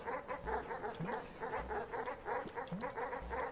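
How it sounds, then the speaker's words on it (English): Dogs barking in the video game Animal Well: a rapid, rhythmic series of repeated barks and yips at a fairly even pace, fairly faint but steady throughout, with no talking. "I hate these dogs. They're so loud."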